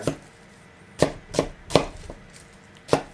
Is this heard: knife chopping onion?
yes